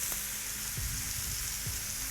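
Wagyu burger patties for a copycat In-N-Out Double Double sizzle steadily on a Blackstone griddle, a continuous close hiss with a few soft low knocks and no talking.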